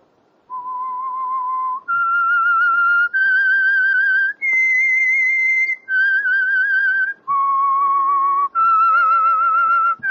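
A whistled melody serves as the theme signal of The Whistler radio show: a loud, clear solo whistle of about eight sustained notes stepping up and down in pitch, with no talking.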